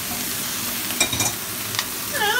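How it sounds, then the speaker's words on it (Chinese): Chinese kale stir-fried fast over high heat in a Beijing-style wok, giving a loud, close, continuous sizzle with brief tossing and scraping sounds. No one speaks. "这就是快炒"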